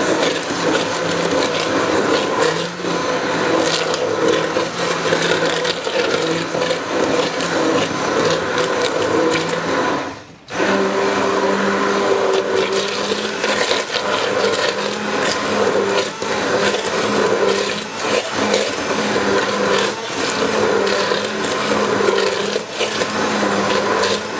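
Continuous loud mechanical grinding and chopping from a manual food chopper chopping jalapeños, broken by a brief pause midway, then carrying on steadily.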